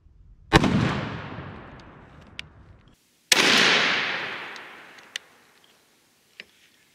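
Two sharp blasts from a Remington 870 20 gauge shotgun loaded with TSS shot, each a loud close crack followed by a long rolling echo, with faint clicks between them.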